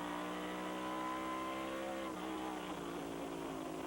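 NASCAR stock cars race at Lime Rock Park in October 2000, with faint, distant engine drones holding steady harmonic tones that shift in pitch midway as cars pass, heard through a thin broadcast mix.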